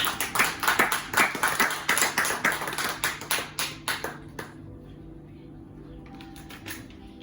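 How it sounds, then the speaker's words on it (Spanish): A church congregation claps in a steady, even rhythm, about two beats per second, for roughly four seconds before stopping, leaving faint room noise with some talk. "Dele palmas al Señor."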